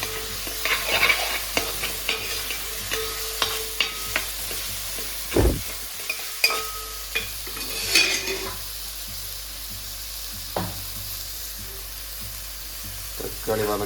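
Tomatoes sautéing in a pan for a fish curry, with a spoon stirring and scraping through them and a steady low sizzle underneath, plus occasional clinks of utensil on metal.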